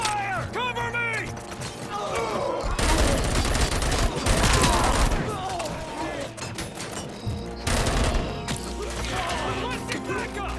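Gunfire and mechanical clanking in the video game RoboCop: Rogue City during a bank robbery, with dense bursts of rapid shots and heavy impacts over a shouted voice.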